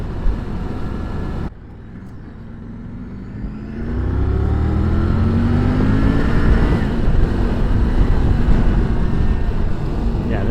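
A Triumph Tiger 900 Rally Pro motorcycle rides on the road at a TouraTexas rally, engine note climbing through gears with steady wind roar, loud and close throughout.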